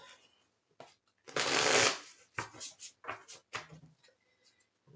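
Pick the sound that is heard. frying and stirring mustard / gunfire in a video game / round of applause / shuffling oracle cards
shuffling oracle cards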